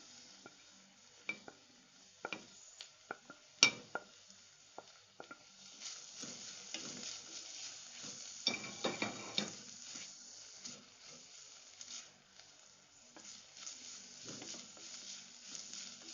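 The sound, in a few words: onion, ginger, garlic and green chili frying in a pan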